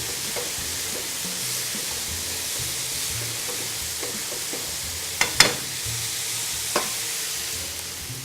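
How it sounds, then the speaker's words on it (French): Flour and melted butter scraped across the bottom of a pan under a steady low sizzle, with a few sharp utensil scrapes and clacks near the middle and a lighter one toward the end. "On vient gratter au maximum pour récupérer toute la saveur qui est là"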